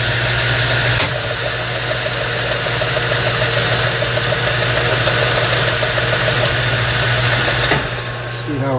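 A metal lathe turns a carriage stop spindle with a loud, steady machine drone and a faint rhythmic chatter from the cut. The sound stays continuous and close, then eases slightly near the end.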